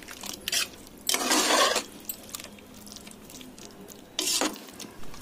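Curd being stirred into a Kerala aviyal vegetable curry in a pot, two soft wet scraping bursts of spoon against the pot, separated by a quiet pause.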